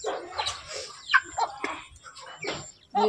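Several hens cluck in short, irregular bursts close by, overlapping one another in a busy farmyard chatter.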